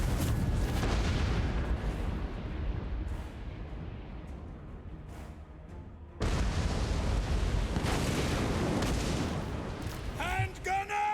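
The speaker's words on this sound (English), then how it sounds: "Great cannon! You can shoot that" Great cannon fire in the Total War: Warhammer 3 video game, heavy booming blasts amid continuous loud battle noise, with a sharp new burst partway through and voices calling out near the end.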